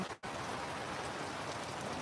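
Steady rain falls in a dense, even hiss, with only a brief dip near the start.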